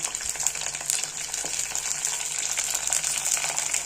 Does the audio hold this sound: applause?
no